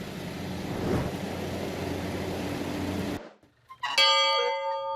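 After a stretch of steady rumbling noise, a single cabin bell on the Kilcher family homestead rings out clearly once and hangs with a bright, lingering tone.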